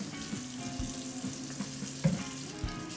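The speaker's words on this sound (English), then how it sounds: "Next we're going to rinse these bad boys off before we slice and dice them." Tap water runs steadily into a sink as lemons are rinsed, a soft continuous splash with a few small knocks and clatters nearby.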